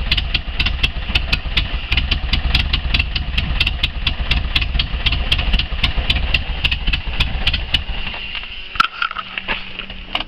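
A 1976 VW camper with a 2.0-liter fuel-injected engine idles nearby, a loud steady chugging with an uneven, slightly lumpy beat that falters near the end.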